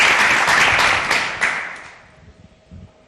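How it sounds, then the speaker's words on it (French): Audience applause at a comedy tribute show, loud and dense at first, then thinning out and fading over about three seconds to scattered claps. "on applaudit juste fort"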